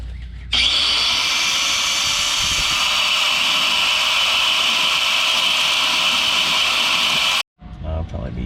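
A power tool cuts through a rusted, stuck exhaust bolt on a 2011 Jeep Wrangler, a loud, steady high-pitched grinding whine running for about seven seconds before cutting out abruptly, with brief low noise after.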